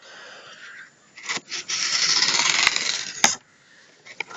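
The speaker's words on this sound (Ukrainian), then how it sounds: "Прорізає картон." A knife blade slices through cardboard in a close, raspy scrape lasting about two seconds, with a few short sharp ticks around it.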